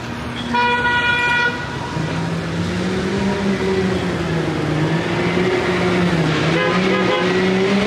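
A brand-new garbage truck rumbles along a rainy, cold downtown New York City street with a low, rising engine drone, loud and close, while a brief horn-like tone sounds near the start.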